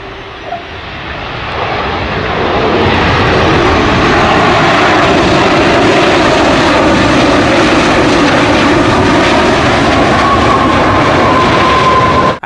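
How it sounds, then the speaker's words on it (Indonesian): An Airbus jet airplane roars steadily and loudly, a broad rushing engine noise that swells in over the first seconds and then holds at full strength. "Ini adalah pesawat besar sekali"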